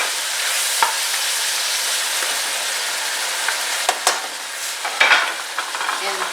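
Shrimp fry in a hot pan with a loud, steady hiss and sizzle, broken by a few sharp clicks and scrapes of stirring toward the end.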